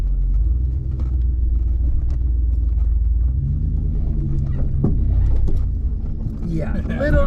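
A Jeep with a 5.9L engine crawls up a steep off-road hill on new tires, its low engine rumble steady and close throughout, with voices briefly heard toward the end.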